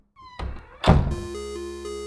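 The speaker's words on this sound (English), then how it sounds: "he hears door 5 being closed." A door closing in a hallway gives a single clear thunk near the middle, after an earlier softer knock, with a steady tonal hum continuing afterward.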